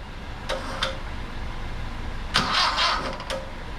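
A 1969 Volkswagen Fastback with an automatic transmission, a barn find, cranking in short bursts: brief starter whirs early on, then a longer rough churning attempt, heard at moderate distance with no talk.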